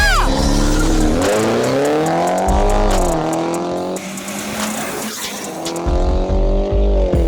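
BMW 330e cars, one fully modified and one stock, launch at a drag race start with loud rising engine whines that climb through gear shifts, plus tire noise, all up close and sustained.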